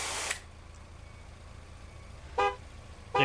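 Short car horn toots in a gas station simulator video game sound three times, the first and last cut off at the edges, over a low steady traffic hum.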